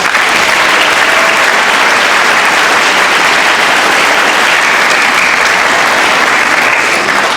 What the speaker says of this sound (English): Please help me thank all of these people with a big round of applause.